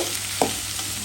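Onions and potatoes frying together in a pan for a mola fish bhuna, heard as a short, close sizzle with a brief scrape of stirring over a steady hiss.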